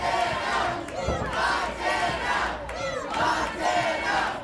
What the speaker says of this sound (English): And the crowd firmly behind Top Shot.